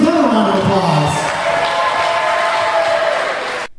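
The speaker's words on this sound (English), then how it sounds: "So let's give them a round of applause." Audience at a charity wrestling event for the Santa Clara Schools Foundation breaking into applause and cheering, a loud sustained crowd wash with whoops that fades toward the end.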